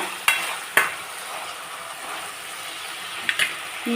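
Onion, green chillies and turmeric frying in a pan give a steady soft sizzle, broken by a few sharp clinks of a utensil against the pan.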